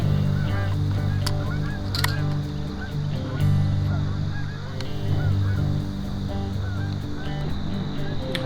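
A flock of about thirty geese on a pond honks repeatedly in overlapping calls at moderate distance, over a steady low background rumble.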